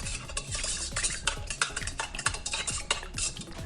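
A spoon stirs sugar into warm water in a bowl, making a steady run of close, rhythmic scraping and swishing strokes with light clinks against the bowl, with no voices.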